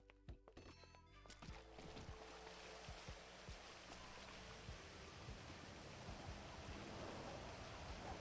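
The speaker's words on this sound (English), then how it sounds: "Alright, back into the rain with me." Steady rain in GTA roleplay, a dense continuous hiss with scattered drop impacts that begins after a brief quieter moment and holds at an even, fairly faint level.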